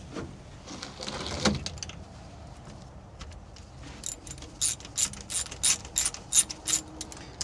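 A hand ratchet clicks rapidly in repeated bursts as spark plugs are backed out of an old landing craft's boat engine, the sharp pawl ticks coming in short close runs after a quieter stretch of faint handling.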